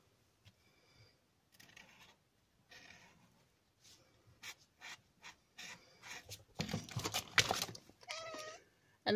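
A cat meows and caterwauls close by while being picked up, with scattered rubbing and scuffing noises between the calls, which grow louder and more insistent toward the end.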